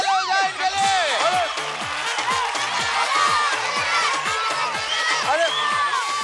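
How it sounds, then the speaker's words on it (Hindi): Crowd of children at a televised dance competition cheering and shouting, with whoops and lively voices filling the space, steady and loud throughout. "जोरदार तालियां हो जाए इनके लिए।"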